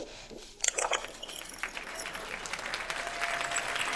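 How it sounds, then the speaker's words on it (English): Audience applause at a Galens Smoker event, starting sparse with a few claps, then building into steady, moderately loud clapping from a crowd that continues to the end. "Please clap."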